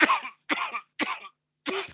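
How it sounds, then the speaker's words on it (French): Four separate harsh, raspy coughs spaced apart, close and fairly loud, the sound of asthmatic coughing, with silence between each burst. "tu vas te mettre maintenant à tousser, exactement comme elle, à souffrir d'asthme en même temps"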